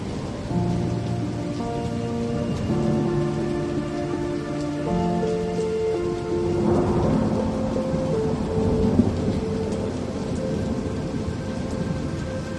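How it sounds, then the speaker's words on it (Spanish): Gusty rain pours steadily as an audiobook sound effect, a dense hiss with a low rumble of thunder swelling midway, under a soft tonal music bed, with no voices. "Llovía a ráfagas."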